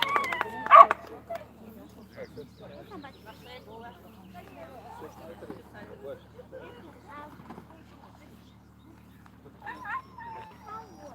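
At a borzoi racing championship award ceremony, a borzoi gives a sharp yip early on, then softer whimpers come through amid quiet nearby talk.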